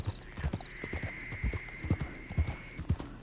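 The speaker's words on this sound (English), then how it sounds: "This is the first time I've ridden another horse except for Lumi in a long time." Horse hooves in Red Dead Redemption 2 clip-clop in a steady, evenly spaced rhythm, fairly close and moderately loud, with a faint tonal whine underneath and no talk.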